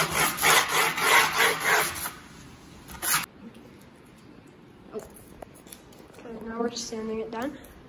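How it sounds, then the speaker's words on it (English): A wooden skateboard deck is sanded down with quick, rhythmic rubbing strokes for about two seconds, followed by a few scattered scrapes and voices talking nearby. "Sanding it down."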